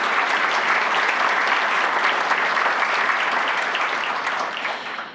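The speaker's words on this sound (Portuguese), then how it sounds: "eu queria dar um aplauso a todos os nossos funcionários" Sustained applause for an institution's staff fills a hall at an awards ceremony, a dense and even clatter of many hands that runs for about five seconds before it starts to fade.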